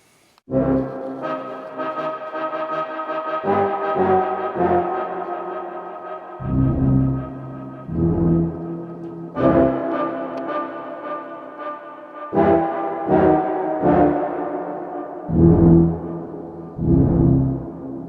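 A deep, brassy tuba drone swells and sustains in long, blurred phrases with sudden stops and restarts, digitally stretched and processed.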